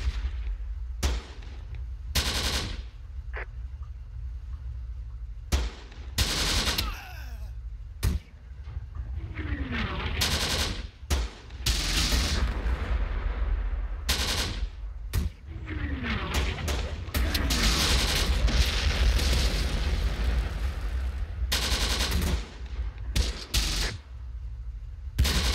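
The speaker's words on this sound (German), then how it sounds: "Ja, unsere Mörser treffen." Mortar and artillery fire in Close Combat, with shells landing on a beach assault in a wartime game: repeated loud booms and cracks, some close and some farther off, spaced irregularly among crackling small-arms fire.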